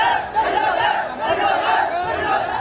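Angry protest crowd of Hindu activists shouting in the street, a dense roar of many raised voices surging and chanting continuously, loud and close.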